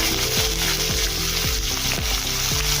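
Onions and green chilies fry loudly in a pan, a dense continuous sizzle marked by periodic scraping stirs, with no voices.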